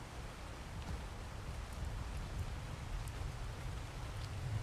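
Steady rain falling in the video game ARK, a constant soft hiss with low rumbling texture, moderately quiet and continuous throughout, with no voices.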